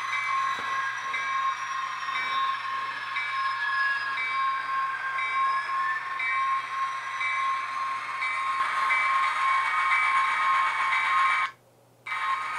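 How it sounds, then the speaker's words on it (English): HO scale model train running across the turnouts of a switching layout, giving a steady, fairly loud mechanical whir with high-pitched squeal and tonal ringing, continuous for about eleven seconds before cutting out briefly near the end. "That is a little stutter that happens as the train is going over the frogs on the turnout."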